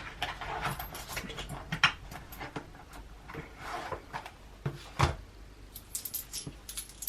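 Handling a purse and drawing out cash envelopes, with soft rustling, papery shuffles and small clicks and clatters from close by, quiet and irregular, broken by a few sharper handling knocks.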